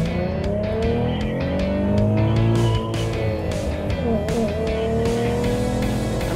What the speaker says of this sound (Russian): Нас ожидает классический заезд на 400 метров